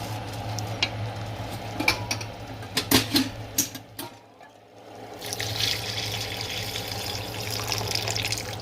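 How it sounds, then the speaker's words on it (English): Water is poured into a pot of cooking ogbono soup, a soft splashing pour with a few clinks and knocks of a utensil over a steady low kitchen hum. "Add your water like so"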